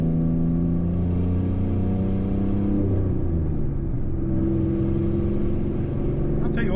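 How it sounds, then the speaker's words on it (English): A little Ranger truck cruising along the road, its engine humming steadily from inside the cab with a shift in engine pitch partway through and constant road noise throughout. "this little truck drives great"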